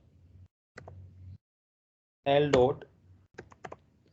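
Computer keyboard typing of code comes in short bursts of soft clicks, close and quiet, with a brief stretch of talking in between.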